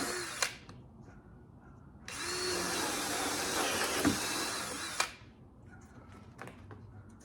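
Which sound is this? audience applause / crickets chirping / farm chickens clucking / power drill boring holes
power drill boring holes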